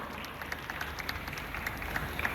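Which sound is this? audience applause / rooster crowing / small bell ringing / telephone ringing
audience applause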